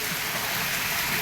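Steady rain falls continuously, a dense, even wash of drops hissing on surfaces throughout, with no voices.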